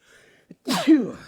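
A single sharp sneeze, preceded by a brief quick intake of breath, close and clear with no talking around it.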